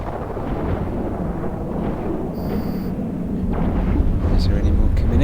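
Heavy cannon fire from both guns aimed at the Seeker in EVE Online, heard as a dense, loud rumbling barrage that builds toward the end, with a brief high electronic tone partway through.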